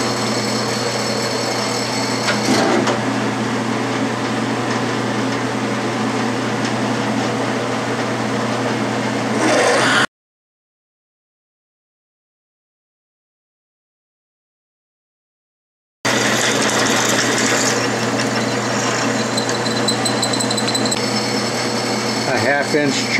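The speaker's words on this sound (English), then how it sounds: "I'm going to drill through and then ream it half inch" A steady mechanical whine of a Delta variable speed drill press cutting metal runs continuously, broken by a gap of silence midway, then resumes with the same grinding hum.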